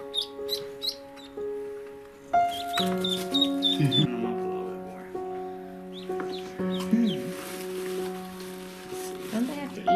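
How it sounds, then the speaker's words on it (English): Ducklings from a farm supply store settling into a new home, giving frequent high peeps and chirps, fairly close, with a voice talking now and then over the tonal background. "What do you think of the duckies, huh, Jen"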